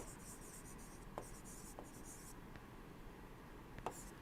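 Chalk or marker writing on a board in a thermodynamics lecture, a faint continuous scratching with light taps, heard alone over quiet room noise.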